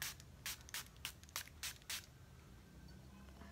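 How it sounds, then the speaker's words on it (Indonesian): Several quick puffs of fine mist from a spray bottle of hydrating face essence, about seven short hissing bursts in a quick irregular run, soft and close in a quiet room. "dia itu bener-bener tipis-tipis atau kecil-kecil semprotannya dan fine banget"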